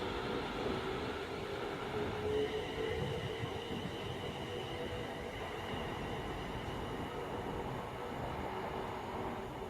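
A passenger train passes on the West Coast Main Line at Winsford, a steady rumbling rush of wheels and motors heard at moderate distance for about ten seconds, with no voices.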